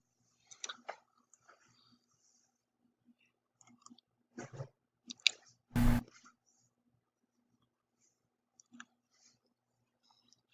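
A password typed on a computer keyboard in a quiet room: a few sparse, light key clicks spread out over ten seconds, with one louder thump in the middle.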